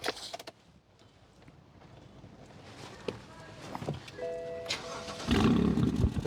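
Quiet rustling and a few clicks, then near the end a sports car with a handmade exhaust system suddenly fires up with a loud, low rumble.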